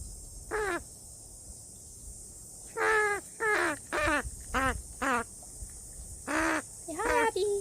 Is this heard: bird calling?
yes